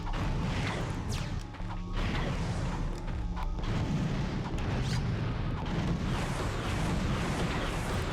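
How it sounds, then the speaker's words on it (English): Repeated Bomb Glove explosions from Ratchet & Clank, a dense run of booms and crashes going off continuously at close range over a heavy rumbling bed of game action. "Let's start off with the Bomb Glove because that's probably the weakest weapon we've got"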